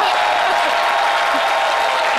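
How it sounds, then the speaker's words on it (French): A studio audience on a French midday talk show applauds a guest loudly, steady dense clapping filling the whole stretch without any pause. "je vous demande d'applaudir très fort"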